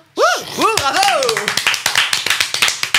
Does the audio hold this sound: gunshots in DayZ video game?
no